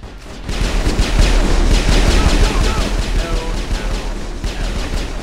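Rapid automatic gunfire in the Mass Effect video game, sustained bursts of shots crackling close and loud for several seconds with little pause.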